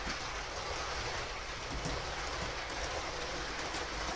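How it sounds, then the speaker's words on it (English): A steady rolling rumble with faint rhythmic clicking as a model train runs continuously around its track, close by and fairly quiet. "the train that's going round here"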